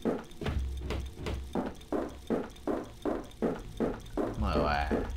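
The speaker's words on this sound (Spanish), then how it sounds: "Escuchá ese cambio en las pisadas." Footsteps in Blade of Darkness thud in a steady even rhythm of about ten hollow clip-clop steps, close and moderately loud, with their surface changing toward the end as a short scraping sound enters.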